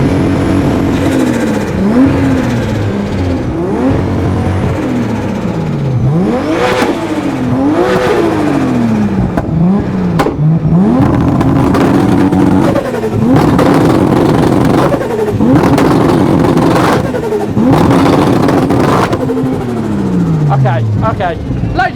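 An 850-horsepower supercar at a track event revs hard again and again, loud sweeping engine rises and falls with crowd noise, at Beaulieu Supercar Weekend.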